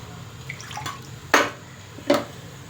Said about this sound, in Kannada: ಈಗ ಫ್ರೆಂಡ್ಸ್ ಇದಕ್ಕೆ ನೀರು ಹಾಕಿ ಸ್ವಲ್ಪ ತೊಳೆದು ಹಾಕ್ತೀನಿ ನೋಡಿ